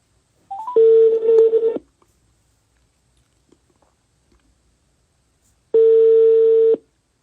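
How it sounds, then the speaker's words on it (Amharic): A phone call being placed: a short run of dialing tones, then a long ringback tone, a gap of near silence, and a second ringback tone, clean and close with no talking. "እየጠራ ነው።"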